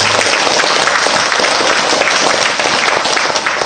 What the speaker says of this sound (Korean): 박수 주겠습니다